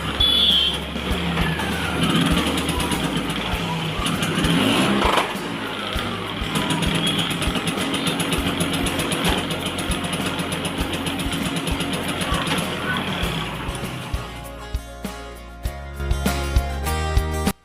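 A Bajaj Chetak scooter engine runs steadily while its gears are checked during a gear-wire installation, a loud continuous putter with shifts in pitch, then settling to a rougher idle with clanking near the end.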